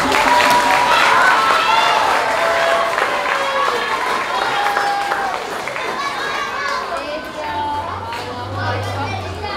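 Applause from an audience at a grade 3–5 school awards assembly greeting student awardees, loud and continuous, mixed with children's voices and crowd chatter throughout.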